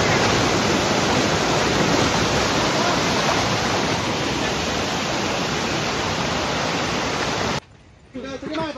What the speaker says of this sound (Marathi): इथे एक छोटासा ओढा आहे